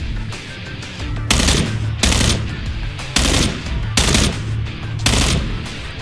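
Bursts of automatic gunfire from the shooter game PLAYERUNKNOWN'S BATTLEGROUNDS come in repeated loud, close volleys, about one every second, over continuous rattling fire.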